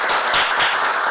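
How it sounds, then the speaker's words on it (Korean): Audience clapping to welcome a speaker at a talk on economic crisis, a brief, close burst of dense hand claps. "박수로 맞이해 주시면 좋겠습니다."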